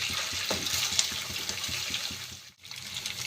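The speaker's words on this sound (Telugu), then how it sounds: "ఇలా గోల్డెన్ కలర్ వచ్చేదాకా ఫ్రై చేసుకోవాలి." Egg manchurian balls frying in hot oil until golden, giving a steady bubbling sizzle with a brief dip near the end, moderately quiet and without any voices.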